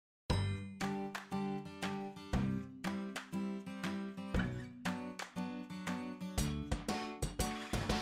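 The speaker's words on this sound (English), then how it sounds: "Ring the bell." A bell from the Yes, Chef! board game rings in a quick series of bright metallic dings, repeated rhythmically and close up without talk.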